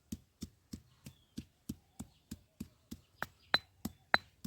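Garlic, coconut, cumin and coriander leaves being worked into a fine paste outdoors in a village mango orchard, heard as a steady series of about fourteen sharp, evenly spaced knocks, close and distinct, with a few brighter clinks near the end.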